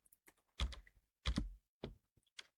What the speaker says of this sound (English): So if I now use the shortcut keys, for example the dot for the next one